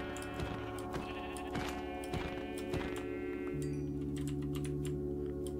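Sheep bleating in the blocky survival game Minecraft, several short tonal bleats spaced about every half second to second, mixed with rapid keyboard clicking throughout and a longer held bleat near the end.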